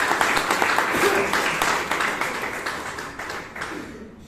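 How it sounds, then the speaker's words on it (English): Audience at a Bangalore Toastmasters club meeting applauds Vivek with a dense, steady round of clapping that starts loud and slowly fades near the end, with a faint voice underneath. "please give Vivek a huge round of applause"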